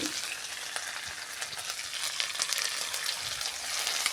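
Ginger garlic paste frying with onions in a pan, a steady close sizzle with faint stirring crackles throughout, moderately quiet, no talking.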